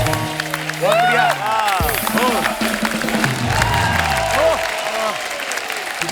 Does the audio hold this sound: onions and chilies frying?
no